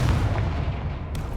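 A Confringo blasting spell erupts in Hogwarts Legacy, a loud, deep rumbling explosion that fills the moment and trails off with a sharp burst near the end.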